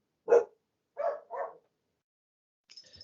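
A dog gives three short, close barks, one and then a quick pair, in an otherwise quiet room, followed by a brief faint rustle.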